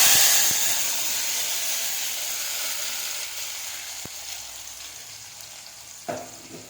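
Onion masala sizzling and frying in hot oil for a fish head sambar, a steady close crackling hiss that slowly fades, with a couple of sharp utensil knocks and a stirring clatter near the end.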